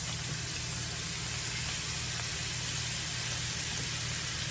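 Butter sizzles in a hot pan with a steak, garlic and rosemary, giving a dense, steady frying hiss that runs unbroken and close, with a low hum beneath.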